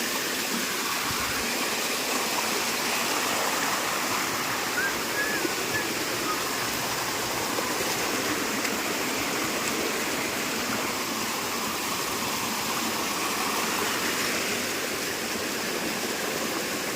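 Water flowing near a public village well, with a steady, moderately loud rushing wash that never lets up.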